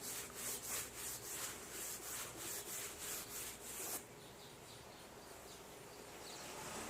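A rag rubs back and forth over a sanded wooden picture frame, close rhythmic swishing strokes that stop abruptly partway through, leaving a soft background hiss.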